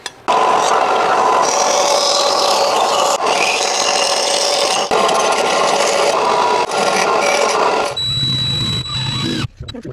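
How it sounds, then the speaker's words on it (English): A bandsaw cuts a circle out of aluminum plate with a loud, continuous rasping grind and brief pauses between passes, stopping near the end as the blade winds down. "So I'll have to cut this out now. Do that on the bandsaw."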